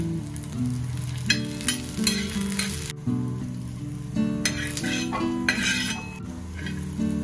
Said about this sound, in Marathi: थोडंसं तेल टाकून लसूण लालसर होईपर्यंत भाजून घ्यायचा